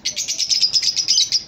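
Rapid bright chirps and tweets from several parrots, repeating steadily in a busy chatter with no talking.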